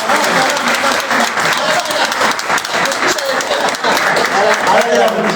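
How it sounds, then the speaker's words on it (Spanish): Loud, close applause from a seated audience at a presentation continues for several seconds. Individual claps stand out within the crowd sound, and voices begin to rise through it toward the end. "Vamos a regalar un aplauso"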